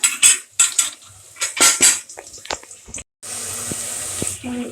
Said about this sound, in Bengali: পেঁয়াজটা ভেজে নিছি